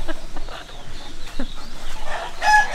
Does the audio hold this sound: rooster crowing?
yes